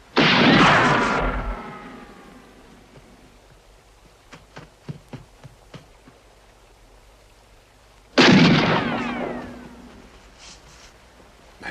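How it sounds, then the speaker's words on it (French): Gunshots in a western film: two loud, booming blasts with long echoing tails, separated by several seconds of quieter background with faint clicks between them. "Mais pourquoi est-ce qu'il tire?"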